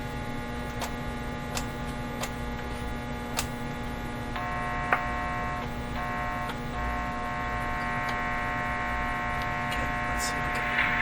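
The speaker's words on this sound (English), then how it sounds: "Sounds even worse, doesn't it? Just a steady hum now." A 1935 Rogers 7R622 tube radio gives off a steady, droning mains hum with a few faint ticks and clicks over it, continuous and fairly close, with no talking.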